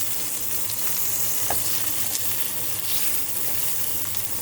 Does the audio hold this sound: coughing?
no